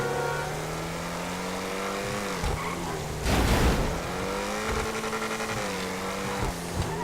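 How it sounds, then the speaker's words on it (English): A supercar engine in GTA V revs and drones steadily, its pitch rising and falling through gear changes, with a brief burst of tire noise midway, loud and continuous throughout. "And that engine sound."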